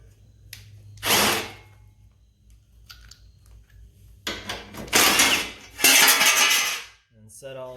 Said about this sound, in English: We're going to take a 9/16 socket and remove these two bolts.